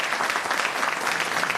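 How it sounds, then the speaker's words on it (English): An audience at a business school MBA pitch competition claps steadily, a dense wash of applause that holds even throughout without voices. "Round of applause for them again."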